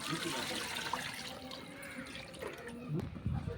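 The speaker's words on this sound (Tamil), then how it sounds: "அளவு தண்ணி நான் 1 கப் தண்ணி ஊற்றிக்கிறேன்." Water poured from a cup into a pot of rice for neisoru, a close, steady splashing pour lasting a few seconds, with a louder gush near the end.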